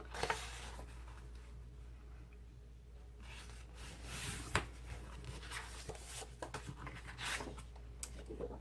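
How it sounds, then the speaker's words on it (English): Heavier-weight paper pages are folded by hand into journal signatures, making soft rustles, sliding scrapes and occasional crisp creasing taps that come and go quietly. "So let's go ahead and fold these."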